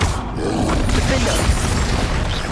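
A Defendo spell going off in Hogwarts Legacy: a dense, steady rush of low booming energy and shimmering mechanical texture that holds near and loud for the whole stretch, without any voices.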